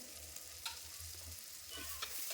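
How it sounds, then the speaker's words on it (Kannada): Thinly sliced onions frying in oil for egg biryani give a continuous close sizzle, broken by soft scrapes and bumps as they are stirred. "ಎಣ್ಣೆಯಲ್ಲಿ ಈರುಳ್ಳಿನ ಸಾಫ್ಟ್ ಆಗೋ ತನಕ ಫ್ರೈ ಮಾಡ್ಕೊಳ್ಬೇಕು"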